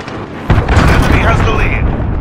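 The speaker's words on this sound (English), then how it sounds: "Enemy cruise missile incoming." In a military shooter video game, an enemy cruise missile strike lands as a loud, sudden boom that rumbles on with heavy low roar and debris noise for about two seconds, with a voice speaking over it.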